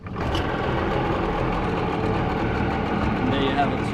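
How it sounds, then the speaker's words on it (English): An outboard motor on a sailing catamaran's dinghy runs steadily at idle close by, a continuous buzzing drone with voices talking over it. "I'm starting the motor, give me my space"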